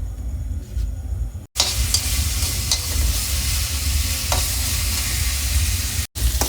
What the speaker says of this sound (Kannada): ಕರೆಕ್ಟಾಗಿ ಶುಂಠಿ ಮತ್ತು ಮೆಣಸನ್ನು ಫ್ರೈ ಮಾಡ್ಕೋಬೇಕು.